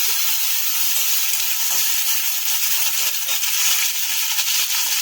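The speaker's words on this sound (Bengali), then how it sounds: "জিরা তেজপাতা শুকনো লঙ্কা ফোড়নটা ভালো করে ভাজা হয়ে গেছে" Grated ginger and tomato sizzle hard in hot oil with fried cumin seeds, bay leaf and dry red chili for a Bengali soybean khichuri; a loud, continuous frying hiss runs steadily throughout, with no voices.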